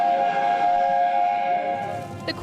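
A steam train sounds a loud, steady whistle held close by for about two seconds before it trails off, with a brief clank at the end.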